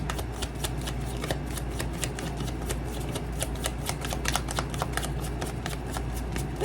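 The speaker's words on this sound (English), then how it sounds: "let's pull some love cards for Gemini" Tarot love cards shuffled steadily up close, a fast run of crisp, even card flicks and riffles that continues without pause, with nobody speaking.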